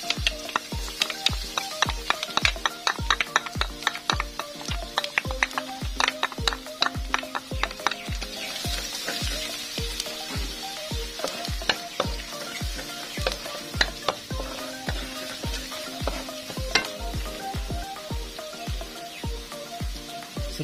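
Garlic frying in a pan for a munggo dish, a loud, busy sizzle with rapid rhythmic stirring or scraping strikes throughout, close and continuous with no voices.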